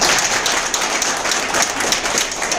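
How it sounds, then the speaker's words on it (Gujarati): A crowd at a gathering gives strong applause for Joshnaben. Many hands clap in a loud, steady wash that carries on without a break, and nobody talks over it. "જોશનાબેન માટે જોરદાર તાળી થઈ."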